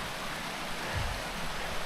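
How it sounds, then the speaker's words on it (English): Water slides down a rock face at Slide Lake in the Zirkel Wilderness, a constant hushed rushing hiss that stays even through the short moment, with no talking. "Water sliding down the rock."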